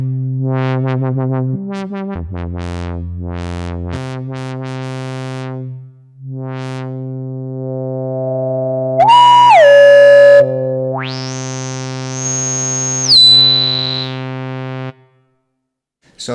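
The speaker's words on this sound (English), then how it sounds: "4-pole Moog low-pass filter" A Kurzweil K2700 synthesizer plays sustained harmonic-rich notes through a self-resonant 4-pole Moog-style low-pass filter. The timbre opens and closes across several swept, repeated tones, then a whistling resonant peak glides up and holds before ending abruptly, with no talk.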